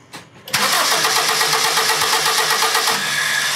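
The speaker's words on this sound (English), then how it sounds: "before we even crank over the engine." Car engine cranking during a starter circuit voltage drop test: a brief quiet moment, then the starter whirs and the engine runs with a loud, steady, rhythmic churn close by.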